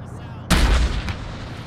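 A single loud gunshot boom from a military video game round, sharp onset followed by a short decaying rumble and a faint later crack.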